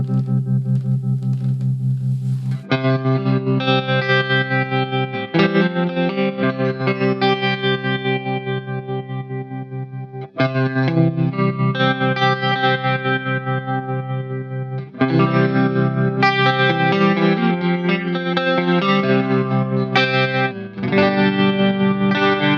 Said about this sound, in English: I would go with the tremolo and maybe the middle chorus, which was kind of quite subtle but not too much.